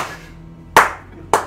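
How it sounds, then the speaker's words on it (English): An audience applauds slowly, with two sharp, widely spaced claps ringing out close and loud in a quiet room. "And applauding slowly."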